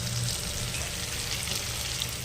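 Bhetki fish bones, with some flesh and fat still attached, sizzle steadily as they fry in hot oil, a continuous dense crackle at close range with no talking.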